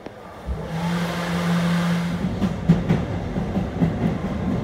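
An R211 shuttle subway train running toward Rockaway Boulevard, a continuous loud rumble with a steady motor whine that gives way to rhythmic clickety-clack of wheels over rail joints.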